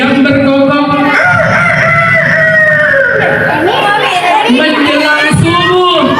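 A voice imitates a rooster's cock-a-doodle-doo crow at a Qur'an school anniversary event in Indonesia, the drawn-out call loud and close amid crowd noise and children's voices.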